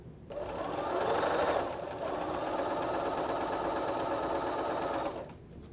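A sewing machine runs continuously for about five seconds, joining quilt blocks with a steady, even whirring hum, close and moderately quiet, with no talking.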